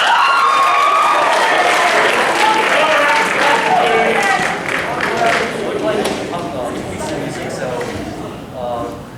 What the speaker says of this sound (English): Keep it clapping until like after the second piece.